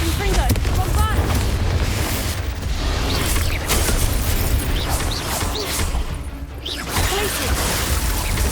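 Confringo and Bombarda spell blasts in Hogwarts Legacy, loud booming explosions layered in a dense, continuous barrage of combat noise.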